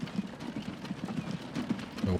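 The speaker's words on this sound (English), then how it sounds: "And let's get 2 horse-drawn streetcars." Horse-drawn streetcars on a rail line in Transport Fever 2 give a steady clip-clop of hooves, moderately loud and continuous, with some talk mixed in.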